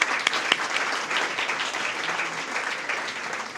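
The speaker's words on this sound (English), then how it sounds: "We forgot to give Justin a round of applause." Audience applauding a speaker at a water conservation summit brunch, a steady wash of many hands clapping throughout, moderately loud and even, with no pauses.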